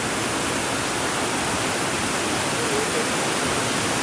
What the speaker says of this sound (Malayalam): വെള്ളമൊക്കെ ഒഴുകി വരുന്നുണ്ട്